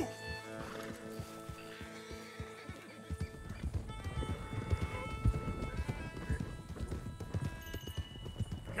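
Horses gallop in Red Dead Redemption 2, their hooves drumming a steady rhythm that grows loud and dense after a few seconds and rides under music, with no voices.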